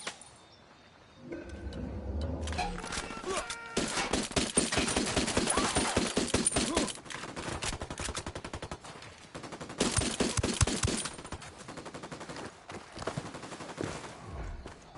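Gunfire in Ghost Recon Wildlands: dense bursts of automatic rifle and machine-gun fire with rapid cracking shots, loud and sustained through most of the stretch, easing into scattered shots near the end.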